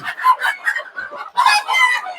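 Native (deshi) chickens on a small poultry farm: overlapping clucks and a rooster-like crow, close and fairly loud, filling the short stretch in two dense bursts with no talk.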